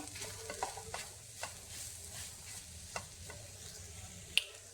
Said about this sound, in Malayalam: ഇനി ഇതിലേക്ക് നമുക്ക് ചുരണ്ടി വച്ചിരിക്കുന്ന തേങ്ങ ഇട്ട് കൊടുക്കാം ഇനി ഇത് കുറച്ച് സമയം ഇളക്കി കൊടുക്കാം